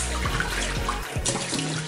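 Cold water pours steadily into a cup of hot tea, a continuous close splashing and gurgling stream with no voices.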